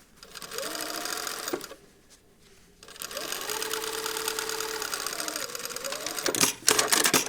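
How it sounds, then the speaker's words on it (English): A sewing machine stitches fabric onto zipper tape in two close, steady whirring runs, separated by a short pause, followed by a few louder clicks and clunks as the work is adjusted. "we're going to stitch this side onto the tape, anywhere on the tape, just so it's secure"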